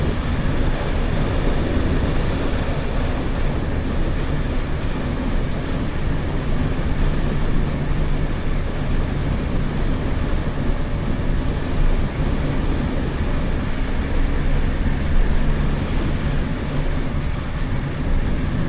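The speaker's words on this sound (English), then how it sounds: "The engine has got a very nice tone to it." A Can-Am F3-S three-wheel motorcycle with a 1,330 cc engine drones steadily at cruising speed, its note largely buried under loud, constant wind rush while riding.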